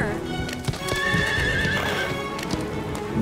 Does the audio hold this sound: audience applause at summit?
no